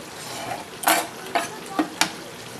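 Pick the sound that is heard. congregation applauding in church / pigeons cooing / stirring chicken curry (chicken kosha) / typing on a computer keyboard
stirring chicken curry (chicken kosha)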